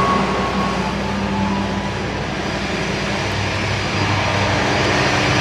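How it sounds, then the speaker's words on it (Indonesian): A train's combined dining and generator car roars loudly, a dense continuous rumble with a droning hum underneath, close and unbroken. "ini kereta makan dan kereta pembangkit jadi satu, makanya bising banget"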